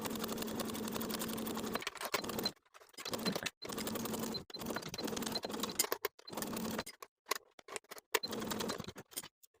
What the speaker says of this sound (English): Sew the sleeve in place from one side across the top of the sleeve to the other side with a 3/8 inch seam allowance.